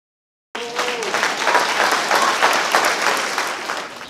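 Audience applause at a poetry slam, a dense, steady clapping that starts abruptly after a short silence and holds strong, close and full before easing slightly toward the end.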